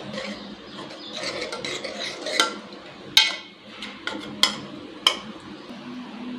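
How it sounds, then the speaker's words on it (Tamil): A spoon mashes cooked lentils (dal) just out of a pressure cooker, giving soft squelching scrapes and a few sharp metallic clinks against the vessel, close and fairly quiet, with no talking. "நல்லா பருப்பு மசிச்சிட்டேன்"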